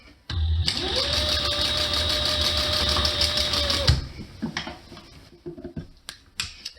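An upholstery sewing machine fitted with a piping foot sews a cushion cover along a half-inch seam allowance. It runs as one steady whirring stretch for about three seconds, then stops, leaving light handling noises of fabric.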